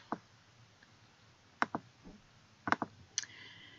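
Several crisp computer mouse clicks sound one at a time and in quick pairs as a website button is clicked, close and fairly loud against a quiet room.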